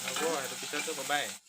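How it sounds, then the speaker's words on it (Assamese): Onions frying in a pan until reddish for a mutton curry, giving a close, steady sizzle with some stirring that cuts off abruptly near the end. "অকনমান ৰঙচুৱা হোৱালৈকে পিঁয়াজখিনি মই ভাজি ল'ম"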